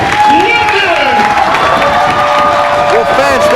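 A pro wrestling crowd at a PWG show roars and cheers wildly after a match finish, a dense, loud wall of shouting and whooping, while a commentator talks excitedly over it.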